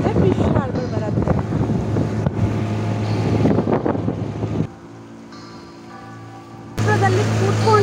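A small motorboat drones steadily across water at Pondicherry with wind buffeting the microphone, the engine dropping quieter midway before surging loud again.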